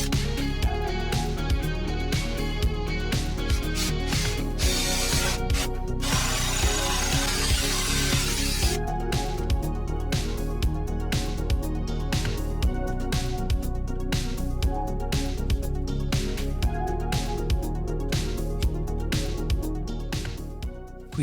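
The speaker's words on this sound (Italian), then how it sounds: "Useremo questa sega a tazza da 29 mm." A power drill with a 29 mm hole saw grinds steadily through material, with a brief change in tone midway before it resumes biting and whining.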